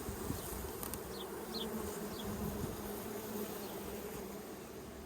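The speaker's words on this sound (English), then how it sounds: "You can hear them buzzing in there as they run down." Honey bees buzz steadily inside a hive as honey is harvested, a dense, continuous hum at moderate level with faint higher whines drifting over it and no voices.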